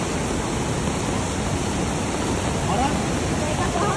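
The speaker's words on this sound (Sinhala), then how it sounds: "වතුර එනවා නේ ඔය" Water rushes in a continuous, even stream, a loud broadband wash that holds steady throughout outdoors in a village.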